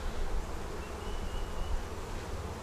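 Honeybees buzzing around an open ten-frame split hive, a steady close droning hum with slight swells, alone without talk.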